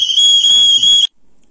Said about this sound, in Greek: Θα κάνω εκπνοή στη σφυρίχτρα με δύο διαφορετικές συχνότητες.